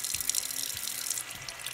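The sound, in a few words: filling containers with warm water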